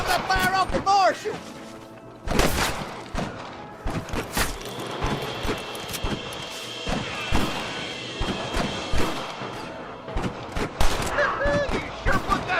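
Dense gunfire from a Red Dead Redemption shootout: repeated sharp rifle and pistol shots crack in irregular bursts across the whole stretch, some close and loud, others further off, with a steady hum of battle beneath.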